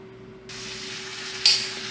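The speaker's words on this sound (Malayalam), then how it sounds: "ഇനി ഇത് നല്ല പോലെ നമ്മൾ റോസ്റ്റാക്കി എടുക്കുന്ന പോലെ നന്നാക്കി വഴറ്റിയെടുക്കാം" Tomatoes with turmeric and chili powder sauté in a pan for a roasted-coconut chicken curry; a loud sizzling hiss starts suddenly and continues steadily over a faint hum.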